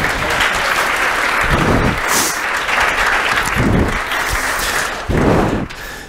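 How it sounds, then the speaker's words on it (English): Audience applause at an agility talk comes as loud, continuous clapping with a few heavier thumps mixed in and no clear speech over it. "please applause for them."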